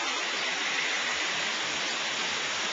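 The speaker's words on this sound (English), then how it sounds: "Here's the waterfall." Rushing water from a nearby waterfall pours in a steady, loud, unbroken hiss that stays constant throughout.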